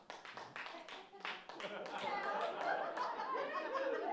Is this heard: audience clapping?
yes